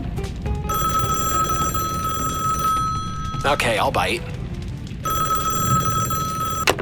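A telephone bell rings in repeated loud bursts with a steady electronic tone, pausing briefly while a voice speaks, then ringing again.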